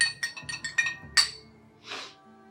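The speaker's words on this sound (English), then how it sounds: "stir that around a little bit." Bourbon old fashioned with maple syrup stirred in a glass, giving a run of about seven quick, close, bright clinks of a spoon against the glass, then a softer swirl of liquid.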